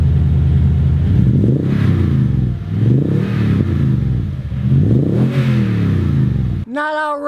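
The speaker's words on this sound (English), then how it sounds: "Makes a great sound when you're accelerating. It's not obnoxious, but it's got that nice V8 rumble." Toyota TRD off-road truck with an optional V8 dual exhaust, accelerating in repeated surges, each rising rumble swelling then easing before the next, loud and close, ending with a brief voice.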